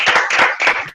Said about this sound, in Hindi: ताली बजाओ ताली बजाओ ताली बजाओ।